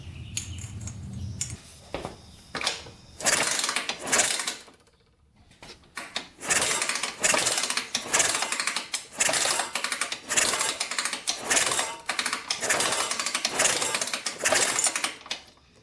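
Honda 250X dirt bike with its engine being kicked over again and again, a loud, close run of rapid mechanical clattering bursts broken by short pauses, with no talk.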